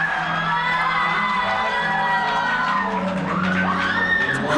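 A crowd of students at a Christmas special show cheers and whoops together, a dense, continuous roar of shouting voices with rising excited yells toward the end.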